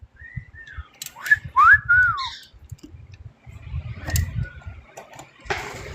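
A pet bird whistles a few bright rising and falling notes near a crafting table while a mouse plush is being sewn, followed by quieter chirps and handling noises.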